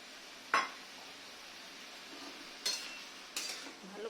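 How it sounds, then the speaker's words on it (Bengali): Food is stirred in a cooking pan, with three short scraping clinks of a utensil against the pan over a faint low hiss, close and unaccompanied. "ভালো করে এই যে নেড়ে চেড়ে নিচ্ছি।"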